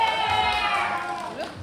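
A crowd at a Korean breakdance battle final cheers loudly for a crew, a dense roar with a high sustained whistle and scattered shouts, all close and loud.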